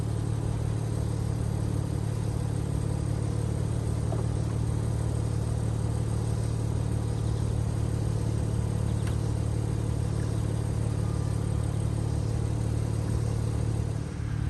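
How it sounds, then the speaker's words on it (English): Steady low motor hum and mechanical whir from a 2023 BMW M4 Competition Convertible (G83) as its folding top cycles, continuous and even throughout with no talking. "I do want to show you guys what the convertible top looks like going up and down."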